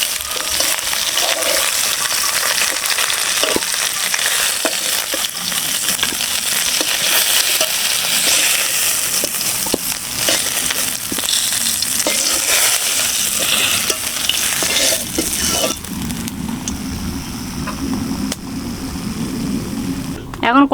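Snakehead (shol) fish fry in oil in a kadai, giving a dense, continuous close sizzle and crackle with scattered stirring clicks; the sizzle turns quieter and lower near the end.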